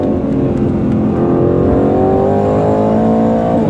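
A 2025 Aston Martin Vantage sports car engine roars as it accelerates steadily, pitch climbing through the gears, loud and close with no voices.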